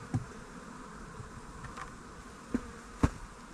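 Honeybees buzzing close around a disturbed hive during swarm-prevention work, a continuous droning hum with a few sharp knocks and thumps, no voices.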